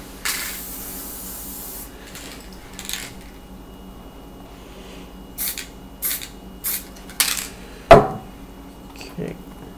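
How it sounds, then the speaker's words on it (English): An aerosol spray paint can gives several short hissing bursts near the start and then a cluster of quick sprays later, close and moderately loud, with faint background noise and small knocks between them. "Don't press down because, I mean, obviously it'll spray."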